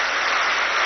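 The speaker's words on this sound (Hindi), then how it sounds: "जरा जोर से ताली बजाएंगे" A short burst of steady group clapping from a spiritual class audience as the session ends, even and continuous.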